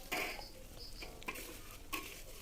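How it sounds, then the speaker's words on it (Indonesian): A utensil scrapes and clinks against a pot of food seasoned with salt in a few quiet, irregular strokes, close by, with no talking. "Diaduk-aduk."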